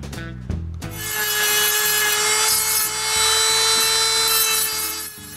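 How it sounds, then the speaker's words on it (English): Power sanding of thick wooden intarsia bird legs, a steady loud abrasive whir running for several seconds after a couple of brief knocks at the start. "The legs are sanded because they're way too thick."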